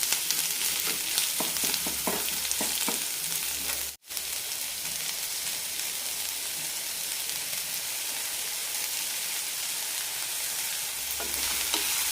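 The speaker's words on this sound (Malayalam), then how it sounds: "സവാള നന്നായി ട്രാൻസ്പാരൻ്റ് ആയി കിട്ടണം അതുവരെ വഴറ്റിയെടുക്കാം" Sliced onions sauté in a hot pan for a Bombay chutney curry, a steady close sizzle with a run of spatula scrapes and clicks early on, a brief gap, then more stirring.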